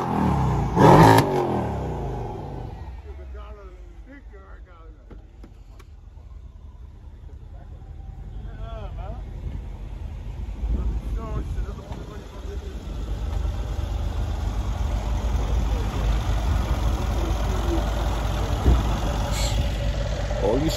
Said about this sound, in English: these cars keep pulling up